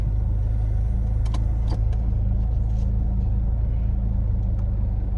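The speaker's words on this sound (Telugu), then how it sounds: "సో గైస్ దీని ఇంజన్ సౌండ్ వినండి. సో పెట్రోల్ కార్ కదా, నీట్గానే సౌండ్ చేస్తుంది" A Tata Indica V2 1.2-litre petrol engine idles with a steady low rumble and hum, smooth and even, with a few faint clicks near the start.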